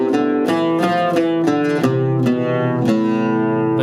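An oud plays a short phrase in Makam Buselik with no accidentals, plucked notes ringing loud and close, a stepwise run of separate attacks with no voice over it.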